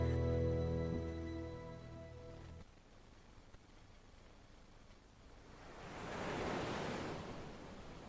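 Ocean surf rolls in around golden sands off an Indian Ocean island, a broad hiss of breaking waves that swells louder toward the end after a brief musical tone fades out at the start.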